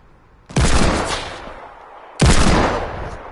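Two loud sniper rifle shots in a shooter game, each a sharp close crack that rings out and decays, spaced about a second and a half apart.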